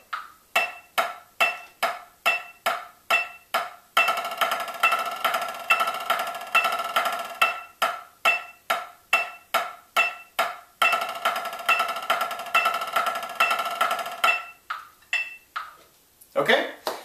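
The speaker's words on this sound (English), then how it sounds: "we're going to play a measure of straight alternating sticking eighth notes, followed by a measure of eighth note buzz rolls" Snare drum played solo, alternating measures of crisp, evenly spaced eighth-note strokes and eighth-note buzz rolls, close and moderately loud with a few faint clatters at the end.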